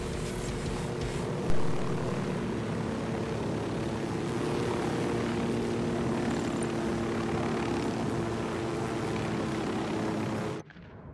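A helicopter flying in the video game Ghost Recon gives off a steady, loud rotor and engine drone that holds throughout, with a slight swell near the start and a sudden cutoff at the end; no one speaks.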